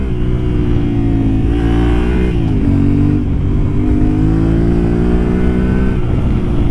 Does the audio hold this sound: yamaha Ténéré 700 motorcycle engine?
yes